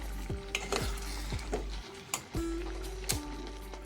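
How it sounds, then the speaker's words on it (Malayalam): Crushed mustard seeds are stirred into avial, a Kerala vegetable dish, in a pan, giving a few quick scraping strokes over a soft, steady background hiss. "അങ്ങനെ കടുക് ചതച്ചതും കൂടെ ചേർത്ത് നല്ലവണ്ണം ഒന്ന് ഇളക്കിയെടുക്കാം നമുക്ക്."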